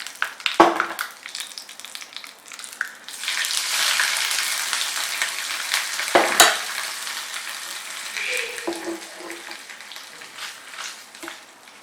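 Hot oil tempering with curry leaves is poured into an egg curry, a loud crackling sizzle that flares up sharply and then settles into a steady hiss, with a few clinks of utensils.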